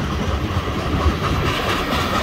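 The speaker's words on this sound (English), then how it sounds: "This one's like a mixed freight with coal." A mixed freight train hauling coal cars rolls past nearby, a steady rumbling roar of wheels and cars with faint rhythmic clatter.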